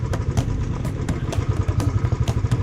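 A motorcycle engine runs close by on a wet hill road on the way to Katiki Waterfalls in Araku, giving a steady, throbbing low rumble with regular pulses and no talk over it.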